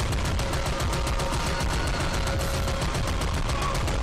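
Rapid gunfire in the video game Army of Two, rhythmic automatic bursts hammering steadily and loudly throughout, with battle noise layered underneath.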